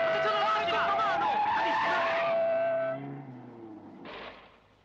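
A car on a city street in a 1967 Italian film scene brakes with a squeal of tires, sliding to a halt as the engine sound drops away, ending with a short burst of noise.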